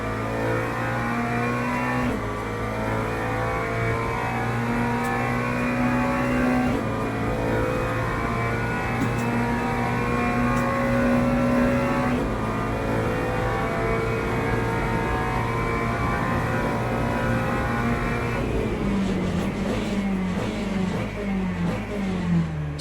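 A Monza GT3 race car in Le Mans Ultimate, driven in the rain, with its engine revving steadily and stepping up through several gear changes, loud and close throughout with no voices.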